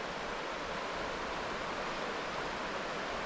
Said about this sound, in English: looks like some rapids here as well